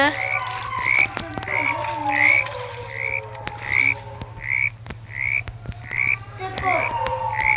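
A frog croaks in a steady repeating series of short, loud, nasal calls, roughly twice a second, close by over a constant low hum with scattered clicks and noises.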